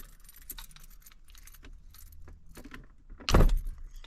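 Car key fob handled and pried apart into two halves, with light jangling and plastic clicks throughout, then one louder snapping crack near the end, close up and without talk.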